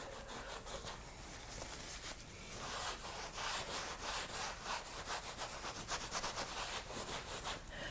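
Brush wiping paint across a canvas, a steady close scrubbing and rubbing texture with repeated strokes running throughout, fairly faint and with no voices.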